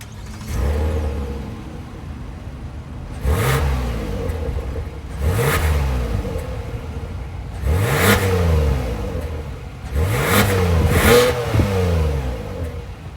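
An idling 2023 Kia Telluride S's 3.8 liter V6 engine is revved four or five times in short bursts, each rising and dropping back to a steady low idle.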